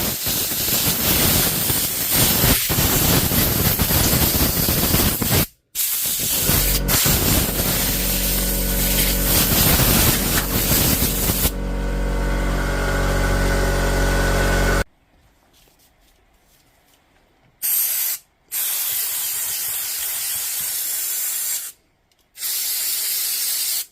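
Compressed air blasts out of a nozzle to blow out a Dewalt power tool, a loud continuous hiss running long, then dropping away into several shorter separate bursts with gaps of near silence between them.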